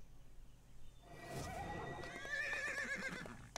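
A horse whinnies in a video game, a faint, drawn-out tonal neigh rising and wavering after a quiet start, with soft hoof clip-clops and low ambient background.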